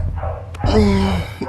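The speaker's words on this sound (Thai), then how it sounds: "เสียงหมาเห่า" A dog barks near the start of a comedic horror gaming scene about a laughing clown bought from the dark web, with a brief sharp yelp followed by overlapping voices and noisy game sound.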